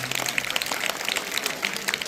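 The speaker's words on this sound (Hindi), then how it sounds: "और इस तिरंगे के लिए एक बार बहुत जोरदार तालियां।" A school audience at an Independence Day celebration in India claps for the tricolour flag in a brief, busy burst of many hands, steady and moderately loud.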